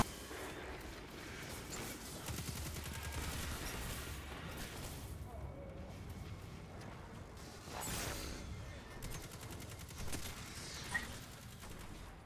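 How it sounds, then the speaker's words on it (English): In the Destiny 2 video game, gunfire comes from behind as rapid, dense bursts and whooshes under the game's sound mix, with a voice talking faintly alongside. "They're shooting from behind."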